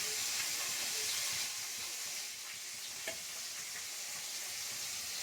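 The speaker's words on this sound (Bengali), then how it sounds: "আর ওদিকে আমি মাছ ভাজা করছি" Koi fish frying in oil in a pan, a steady close sizzle and hiss with faint crackles and a small pop partway through, no talk.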